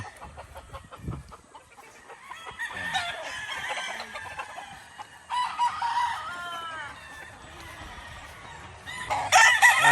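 Gamecocks at a gamefarm conditioning session crow repeatedly and cluck nearby while roosters spar, with scuffling between calls and a faint voice now and then.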